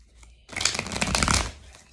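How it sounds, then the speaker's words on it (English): Tarot cards shuffled by hand during a personal reading, a dense burst of crisp papery riffling and slapping that starts abruptly, runs for about a second, then fades into quiet room tone. "So I'm going to shuffle your cards to get the energy out of them."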